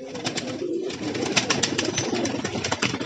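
Pigeons coo steadily in a breeder loft, several birds overlapping in soft repeated calls at close range, with faint rustling and no talk.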